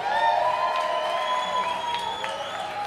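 An audience cheers at a live concert, a steady wash of crowd shouting and whoops that holds at full strength from start to finish with no clear breaks.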